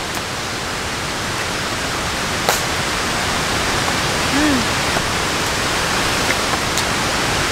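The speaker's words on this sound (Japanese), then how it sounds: "今日は雨だったのか" Steady rain falls outside a campsite tent in a forest campground on a rainy evening, a continuous broadband hiss with a few faint isolated drips and taps, no talk.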